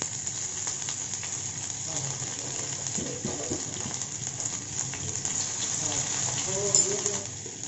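Coarsely crushed ginger, garlic and green chilli fry in hot oil with crackled mustard seeds. A steady hiss of sizzling runs throughout, with light stirring, while a voice talks over it.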